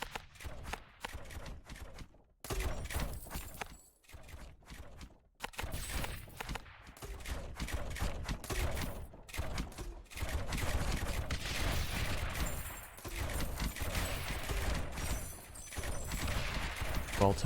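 Mortar fire in a video game, dense booming blasts and crackling impacts repeating steadily over a busy battle soundscape, with brief lulls between volleys.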